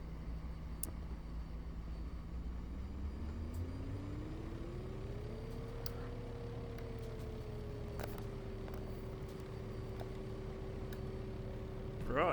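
A helicopter engine spools back up at a helipad, its whine climbing smoothly in pitch over a few seconds and then settling into a steady tone above a constant rumble.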